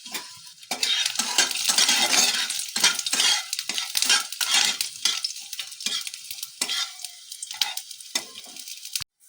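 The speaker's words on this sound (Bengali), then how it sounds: "তো চলো এবার আমি রসুনটা ফোড়ন দেবো।" Garlic tempering in hot oil for a soup, crackling and sizzling loudly with bursts of spattering and occasional stirring scrapes, fading slightly toward the end.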